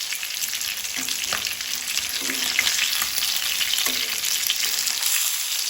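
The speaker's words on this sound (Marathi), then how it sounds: "अशें 1-2-3 वेळा आमकां मदीं मदीं परतून घेवपाक जाय." Stuffed Goan recheado mackerel frying in oil in a pan gives a steady, bright sizzle, broken by a few soft scrapes and shifts as the fish is moved. No one speaks.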